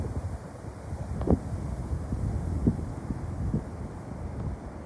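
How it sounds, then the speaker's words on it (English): Strong gusts buffet the microphone on a rocky mountain ledge on Mount Greylock, a steady low rumble with a few sharper thumps, close and fairly loud with no talking. "It's very windy"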